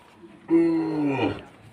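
A healthy cow on a farm raising cattle for Qurbani lets out a single clear moo, starting abruptly and holding steady for about a second before trailing off, close and alone in a quiet setting.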